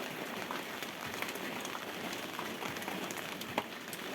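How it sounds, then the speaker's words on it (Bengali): Rain falls steadily outside, a soft continuous patter with scattered drips and light taps on surfaces. It is fairly faint and even, with no talking. "সকাল থেকেই কিন্তু আজকে বৃষ্টি হচ্ছে"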